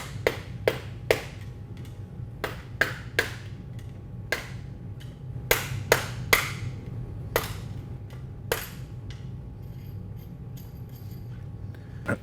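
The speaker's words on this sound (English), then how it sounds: "Now with the screwdriver and hammer, break the factory preload collars loose." Sharp metallic hammer strikes, hammering a screwdriver to loosen shock spring preload collars on a Polaris RZR XP 900, ring out in irregular bursts, about fifteen blows, over a steady low hum of background noise.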